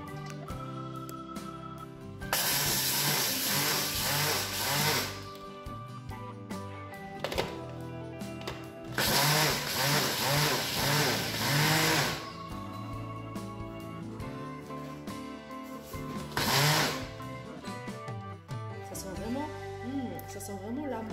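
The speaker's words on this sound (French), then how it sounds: "Donc là, je vais mixer ça" A home food processor grinds flax seeds into powder in a kitchen, running in three loud whirring bursts of a few seconds each, separated by pauses in which a person talks.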